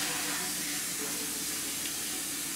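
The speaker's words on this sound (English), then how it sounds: "fill this up with my mop water" Tap water runs into a bucket being filled with mop water, producing a steady, even rushing hiss close to the microphone that continues without a break and with no talk.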